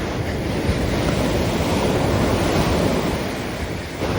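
Pacific Ocean surf breaks at Swami's Reef in Encinitas, California, a steady loud wash of waves with wind noise buffeting the microphone throughout, no voices.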